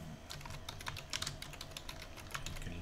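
Rapid keystrokes clatter on a computer keyboard in an irregular typing run, close and fairly quiet, several bursts of clicks with brief pauses, with no one speaking.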